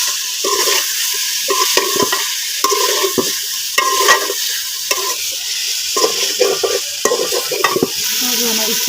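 Chicken frying in a pan with ginger, garlic and green chili paste for a restaurant-style chicken pulao, steady loud sizzling broken by repeated scraping stirring strokes throughout.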